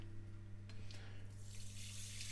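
Water flows into a saucepan holding basmati rice, a faint, continuous running-water hiss that builds toward the end, with no voices.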